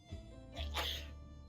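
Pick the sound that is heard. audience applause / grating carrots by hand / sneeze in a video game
sneeze in a video game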